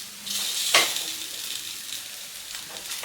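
Moong dal appe batter sizzles steadily in an appe pan while a sharp metallic scrape marks the dumplings being flipped, the crackle continuing close and moderately loud afterward.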